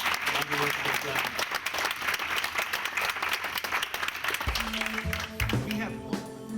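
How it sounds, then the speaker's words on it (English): Applause from an audience honoring Don and Carol Croft, a dense, sustained clapping that stays loud throughout and fades a little near the end as a steady musical tone comes in underneath. "It's a big round of applause for Don and Carol Croft."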